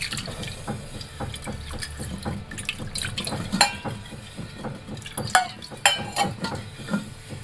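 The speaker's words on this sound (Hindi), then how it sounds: "मैं आपको साफ पानी से वॉश करके" Clean tap water runs while a pressure cooker is rinsed in a kitchen sink, a steady splashing stream broken by clinks and knocks of metal against the sink, close and moderately loud.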